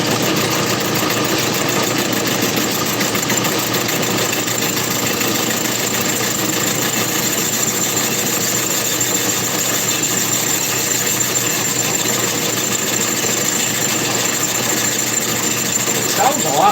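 A workshop machine takes a ten-thousandths cut, giving a steady, even mechanical whir and hum with a faint grinding texture, running continuously at moderate loudness.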